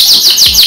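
A Rasmi canary sings a rapid series of about four high, swooping chirps, evenly spaced and close, loud and clear, with a soft low thump near the end.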